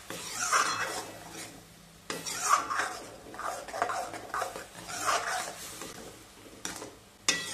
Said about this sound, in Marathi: त्याचा कच्चेपणा जाईपर्यंत आपल्याला हा जो मसाला आहे तो छान परतवून घ्यायचा आहे